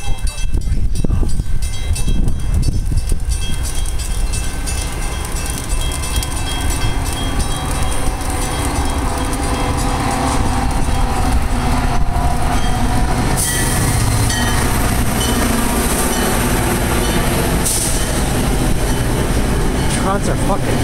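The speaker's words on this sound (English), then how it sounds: "For your safety, please stand behind the yellow line until the train comes to a complete stop." METRA commuter train pulling into the Buffalo Grove station in pouring rain: a loud, steady rumble of railcars and wheels fills the whole clip, with a brief metallic squeal partway through.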